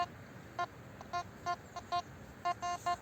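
Short electronic beeps from a metal detector sweeping a playground, about ten clipped tones in irregular succession, some doubled, clear over faint background hiss.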